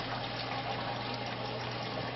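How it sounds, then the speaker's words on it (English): Water rushing through a Navigator thermostatic mixing valve, a steady, even hiss of flow heard close and alone throughout. "the thermostat responds by shutting off the flow from the mixing valve, almost down to nothing"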